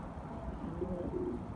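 A pair of pigeons, a Pursoon hen and a Spaniel cock, coo softly in a low, murmuring burble at close range inside a loft, with no voices.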